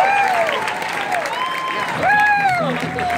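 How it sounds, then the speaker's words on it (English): Concert crowd applauding a band at a tribute show in Mesquite, clapping sustained under long sung or shouted voice tones that rise and fall across it. "You really have to give them a round of applause."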